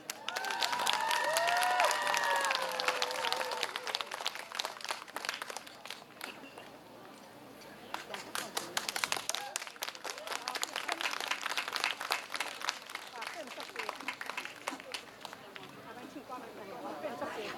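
A concert audience claps and cheers loudly to welcome a veteran Taiwanese singer to the stage, with dense, sustained applause, a few shrill whistles and screams early on, a brief dip midway, and then renewed clapping.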